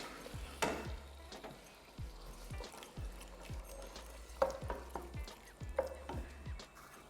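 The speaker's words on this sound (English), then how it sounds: "Give it a good stir and just break up those tomatoes." A spoon stirs chilli with rinsed red kidney beans and broken-up tomatoes in a pot, giving a run of soft scraping and thudding strokes at a steady rhythm, with wet clacks and a light sizzle underneath.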